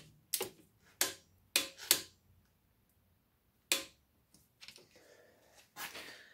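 Torque wrench clicking while tightening a tapered-seal M10 Allen fill plug on an Audi A4 B7 transmission: four sharp close clicks in quick succession, a pause, one more click, then fainter handling noises.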